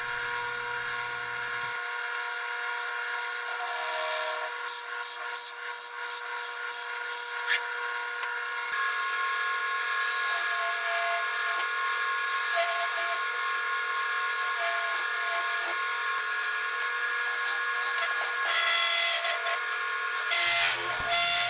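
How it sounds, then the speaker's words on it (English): Wood lathe hollowing out a resin and wood-shaving tea light holder with a 3/8 and then 5/8 bowl gouge, a steady bright scraping hiss with sustained motor whine, close and continuous. "I used the 3/8 bowl gouge, and then I switched to the 5/8 bowl gouge"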